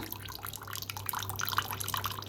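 Quiet splashing and trickling of warm water being poured onto lentils in a pot, soft and close, over a low steady hum.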